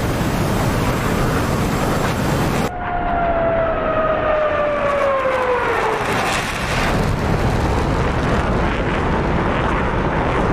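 Missiles firing from a destroyer in a naval video game, a loud continuous roar with a falling whine sweeping down, then a steady rushing rumble that carries on to the end.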